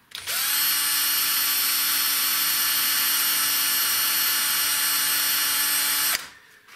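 A large cordless drill with a 0.8mm bit whirs steadily at high speed into soft alloy on a Tri-ang model railway diamond crossing for about six seconds, loud and close, then stops abruptly.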